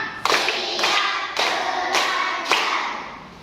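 Five sharp, synchronized claps from a group of Indonesian schoolchildren counting along in a classroom, evenly spaced about half a second apart, each a close, bright burst.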